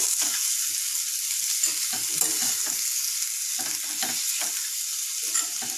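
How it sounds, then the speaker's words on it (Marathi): Potato vada pav filling is stirred in a hot pan, the spoon scraping in repeated strokes over a constant, close sizzle, with no voices. "आणि व्यवस्थित मिक्स करून घेऊयात ही भाजी"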